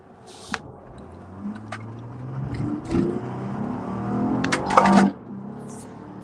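A car pulls away, its engine revving up and rising in pitch over a few seconds before fading, with a few clicks and knocks near the start and a brief quiet tail afterward.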